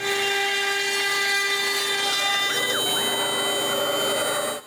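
A wood router cuts a simple wooden soffit pattern, giving a loud, steady high-pitched whine that holds unbroken for several seconds, with a brief dip in pitch as the bit bites into the wood near the end.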